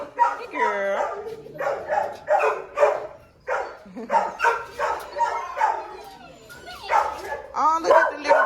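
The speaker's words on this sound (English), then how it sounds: "Oh, look at the little puppy." Small puppy barking and yipping in a quick series of high, close barks, with whimpers between, while people talk over it.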